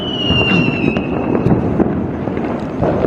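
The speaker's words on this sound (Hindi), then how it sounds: "पटाखे वगैरह फूट रहे हैं दूर दूर साइड में से" Firecrackers burst far off during a Diwali night, scattered dull pops under a steady outdoor hiss, with a thin whistling tone drifting down near the start.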